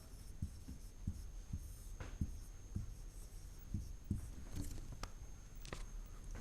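Chalk or pen tapping and scratching out a maths problem in a class lesson, a series of short, evenly spaced strokes, fairly close and moderately quiet, over a low steady room hum with no voice.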